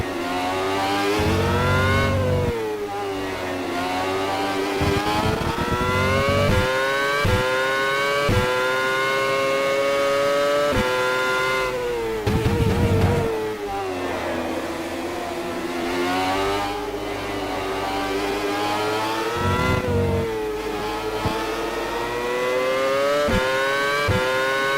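Race car engine from the rFactor racing game, a continuous loud high-pitched whine rising and falling through gear shifts and revs, with brief rougher bursts at a few points and no talking.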